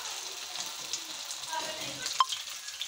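Egg-dipped anda tikki set into hot oil, soft sizzling and frying that flares briefly as the patty goes in, with light clinks of a utensil against the pan.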